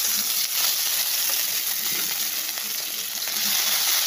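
Frying sizzle of garlic pieces in a hot pan, where ground spices are about to be added for a kachur loti (taro stolon) dish, a steady dense hiss holding throughout with a few faint stirring scrapes and no talk.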